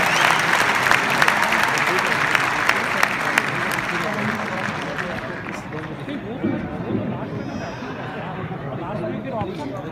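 Crowd applause greeting a performer at a musical poetry gathering held at Bapu Sabhagar, loud sustained clapping that thins and fades toward the end as murmuring chatter remains.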